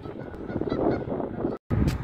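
A flock of geese honks continuously while flying overhead outdoors on a freezing day, loud layered calls with a brief dropout near the end before the honking resumes.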